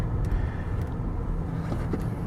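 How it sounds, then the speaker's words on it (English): Naturally aspirated V8 of a 2007 Lexus LS460 L, a low steady rumble heard from inside the car while driving, with road noise beneath it. "there's nothing like a naturally aspirated V8"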